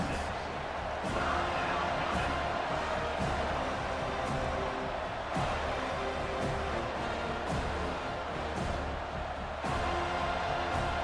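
A home crowd roaring in EA Sports College Football 25 during a third-down defensive stand, a dense, loud, sustained stadium din with thumps and swells, steady throughout with faint voices mixed in.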